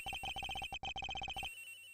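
A telephone rings in the Ace Attorney video game, sounding as a rapid electronic trill in two quick bursts that are clear and close, with no voices over it.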